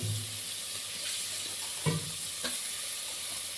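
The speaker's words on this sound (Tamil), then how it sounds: "அது நல்லா பொன்னிறமாக நல்லா கோல்டன் ப்ரௌன் வர அளவுக்கு நல்லா வறுத்துக்கோங்க." Two large chopped onions fry in oil for chicken biryani, a steady close sizzle with a few soft scrapes of stirring, and no talking.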